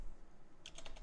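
A brief burst of computer keyboard typing while Python code is written for a Gemini Pro chatbot, a handful of quick soft key clicks arriving in the second half after near silence.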